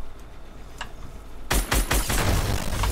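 Gunfire in Fortnite breaks out suddenly partway through as a dense burst of rapid shots, loud and close, after a quieter stretch of game ambience.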